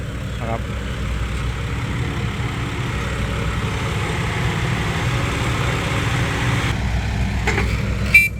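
A dump truck engine fitted with modified valves idles steadily nearby, a continuous low rumbling drone with a brief sharper sound near the end.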